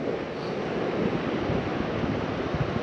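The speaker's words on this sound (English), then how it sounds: "Wow, look at those waves." Ocean waves break on the Oregon coast, a broad continuous roar of surf heard from fairly close, mixed with wind buffeting the microphone.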